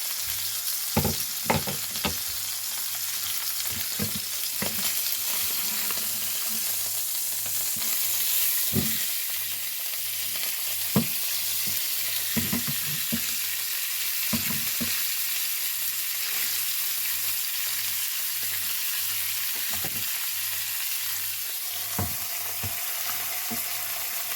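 Fish pieces shallow-frying in a pan after being flipped to the other side, a steady close sizzle with occasional sharp utensil clicks and scrapes against the pan throughout.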